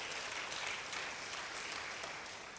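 A church congregation at a Sunday service applauds, with a steady wash of clapping that stays moderately loud and even throughout, ending on a single sharp peak.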